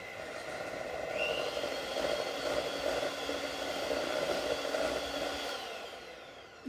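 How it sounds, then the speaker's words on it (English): Cream cheese and yogurt whipped together with an electric hand mixer, a faint, steady motor whir with soft hiss lasting about six seconds before cutting off. "And I'm just going to blend it with my hand mixer."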